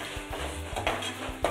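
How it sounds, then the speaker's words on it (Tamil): Utensil stirring and mashing sautéed tomatoes in a thick-based pressure-cooker pan for tomato rice, with repeated soft scraping strokes over a light sizzle, close and moderately loud, without talk. "பாருங்க, நல்லா வதங்கிடுச்சு, நல்லா ஸ்மாஷ் பண்ணி விட்டுருங்க"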